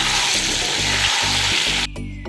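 Pointed gourd with turmeric and pink salt sizzles loudly in hot oil while being stirred, with rhythmic scraping strokes, and the frying drops off abruptly near the end.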